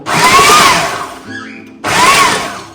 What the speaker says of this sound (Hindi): ये हमने फूड प्रोसेसर चलाया, पल्स पे चला रहे हैं ताकि बिल्कुल मैच भी ना हो।